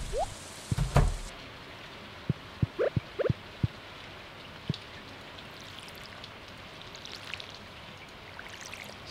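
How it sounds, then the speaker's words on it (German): Rain falls in the video game Stardew Valley as a steady soft patter, with scattered sharp drip and tap sounds standing out near the start and no talking. "Es regnet eigentlich"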